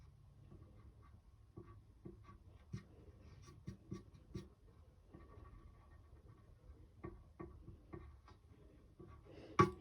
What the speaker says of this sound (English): I'm gonna go draw Jack outside of his house.